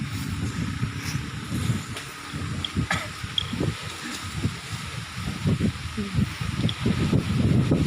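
Strong midday wind gusts buffet the microphone outdoors, rough rumbling bursts that rise and fall unevenly and grow stronger toward the end.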